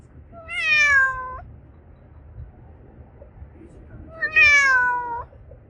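A cat meows twice, two clear, drawn-out calls separated by a few seconds of quiet background.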